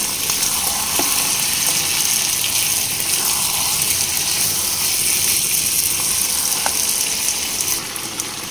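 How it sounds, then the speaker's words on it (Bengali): Free-range chicken curry with ground spice paste frying on a high flame, with a loud, constant sizzle and occasional stirring scrapes throughout. "প্রথম পর্যায়ে হাই ফ্লেমে 3 থেকে 4 মিনিট অনবরত নেড়ে চেড়ে কষিয়ে নেব"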